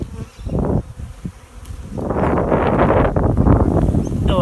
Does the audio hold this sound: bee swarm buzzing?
yes